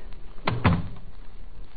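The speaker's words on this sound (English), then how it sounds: "And close the door." A door closes in an old-time radio detective drama: two quick wooden thuds in succession, a firm close with a latch knock, near and clear over light background hiss.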